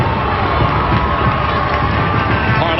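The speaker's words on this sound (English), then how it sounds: "inside the stadium it's just deafening, the noise" A packed stadium crowd roars steadily at the 1999 Women's World Cup semifinal between the USA and Brazil, a loud, continuous wash of cheering and shouting.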